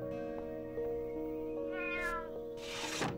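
A cartoon cat gives a drawn-out meow, close and clear, followed by a second, rougher and breathier cry near the end.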